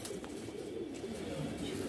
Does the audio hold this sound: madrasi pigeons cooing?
yes